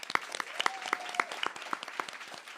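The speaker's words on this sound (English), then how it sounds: "Give yourselves a round of applause." Young performers receive applause from a concert audience, a scattered patter of separate claps with a faint tone running beneath it in the middle.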